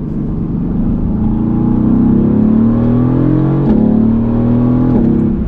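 A Mercedes-AMG engine drones loudly from inside the car, its pitch shifting with two sharp cracks from the exhaust as gears change.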